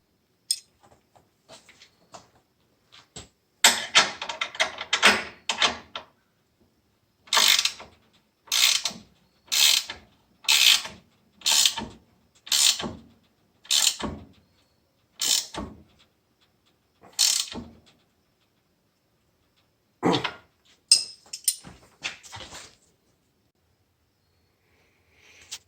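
A ratchet tightens the mounting bolts of a Craftsman bench vise to a workbench, with lock washers and lock nuts: about ten separate bursts of rapid clicking, close and clear, spaced a second or so apart, with short ratcheting passages before and after.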